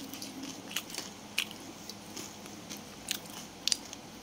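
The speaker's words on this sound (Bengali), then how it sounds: "আবার বড়াটা একটু খেয়ে" Someone bites and chews a fried lentil fritter, or bora, up close: several distinct crisp crunches spaced over a few seconds, with soft, moist chewing in between and no talk.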